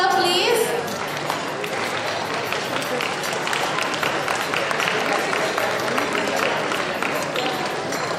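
A school event audience applauds a prize winner. Clapping and crowd noise run steadily throughout, with a brief voice near the start.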